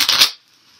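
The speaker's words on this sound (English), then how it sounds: "I want to shuffle one more time" Tarot cards are shuffled in one quick, close riffle lasting a fraction of a second, then the sound drops off into near silence.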